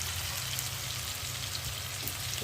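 Onion sizzling in hot oil in a pan while cooking a fish curry, with a steady close crackle and hiss that continues without pause.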